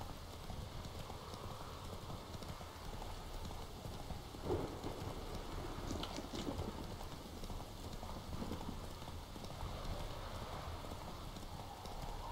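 Roach the horse's hooves clip-clop steadily in the Witcher 3 game, soft and somewhat distant beneath a constant wash of rain-like ambient noise, with no one speaking.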